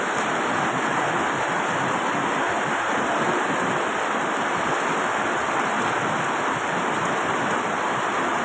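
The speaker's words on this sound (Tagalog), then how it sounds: "Umuulan na po." Heavy rain pouring down in Silang, a dense, loud, unbroken roar of water falling steadily across the whole stretch, with no voices heard.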